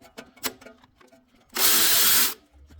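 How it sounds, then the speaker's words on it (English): Removing a 10 millimeter bolt from the alternator bracket of a 2011 Toyota RAV4 2.4L four-cylinder, a few light metallic clicks and taps, then a loud, steady burst of a power tool lasting under a second, up close. "Then right here we have a 10 millimeter bolt. We're gonna go ahead and remove that for the little bracket."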